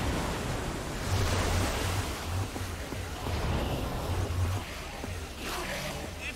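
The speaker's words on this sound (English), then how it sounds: "I don't know how much water this thing is gonna kick out" Rushing water pours out after a lever is pulled in Minecraft: Story Mode, a steady broadband surge like surf that fills the whole moment at fairly even loudness.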